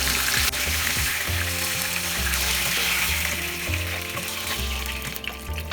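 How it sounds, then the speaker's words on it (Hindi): Tilapia fish frying in oil for a Bengali-style jhal, a steady close sizzle carrying through the whole stretch with a few clinks and shifts as the pieces are handled. "फ्राई हो गया, अभी हम इसे निकाल लेते हैं।"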